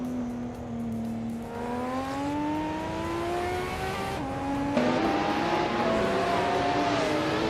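The engine of a 1989 TVR Tuscan in a racing video game drones steadily, its pitch climbing as it accelerates, then dipping briefly at a gear change before rising again.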